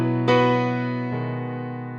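Piano chords from a song ring out, with one sustained chord and a second struck about a second later, both decaying slowly and heard alone.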